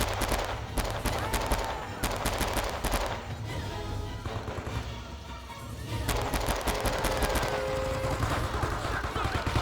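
Sustained gunfire in the Vietnam War shooter Men of Valor, dense bursts of automatic weapons and rifle shots rattling continuously throughout, with a soldier's voice shouting over the battle.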